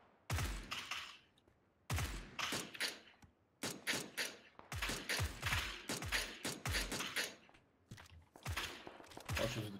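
Suppressed gunfire rings out in the battle-royale game PUBG as clusters of muffled, sharp shots come in irregular rapid bursts separated by brief pauses, fairly close and punchy.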